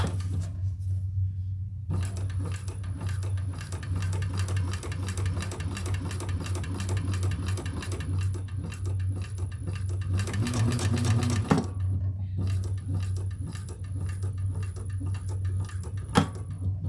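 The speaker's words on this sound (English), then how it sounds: "Now let's do the stitching." Sewing machine stitching a double-sided leather tote, running steadily for long stretches with a dense rapid mechanical rhythm, a low motor hum underneath, a brief pause near the start, and a sharp click toward the end.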